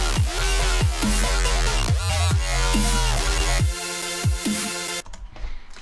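EDM drop section with swapped-in drums: dense, loud full mix of punchy kicks, booming sub bass and bright synth chords pulsing in a driving rhythm, then cutting off abruptly into a brief sparse tail.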